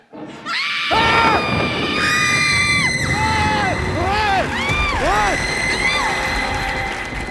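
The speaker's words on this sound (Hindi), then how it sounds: "तेरा बेड़ा गर्क ऐसे कौन चिल्लाता है?" A woman screams in fright on a comedy TV show stage, a loud, sustained series of high, wavering shrieks rising and falling over roughly six seconds, with overlapping voices and audience noise beneath.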